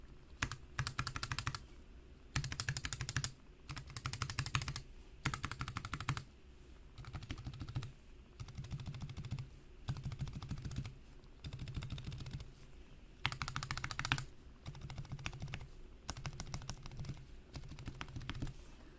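Mechanical keyboard switches on a Zeal switch tester tapped rapidly and hard, producing bursts of loud, fast clacking separated by brief pauses, close and alone.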